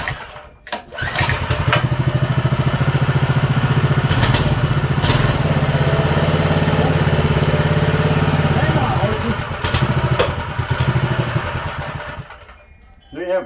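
A Baja Warrior mini bike's small engine runs at a steady, buzzing idle close by for most of the stretch, then fades out near the end, with someone talking intermittently over it.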